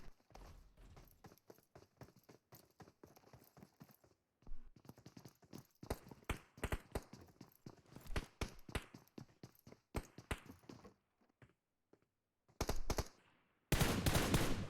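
Gunfire in PUBG Mobile during a competitive match, rapid bursts of automatic shots and sporadic single cracks, some distant and faint, separated by brief quiet gaps.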